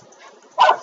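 A dog barks once at mid distance, a short sharp bark that stands out after quiet indoor room tone in a home.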